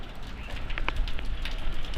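Rain falls on the streets of Doumen Old Town in Zhuhai, a steady close hiss of drops with scattered brighter taps and splashes, with no voices.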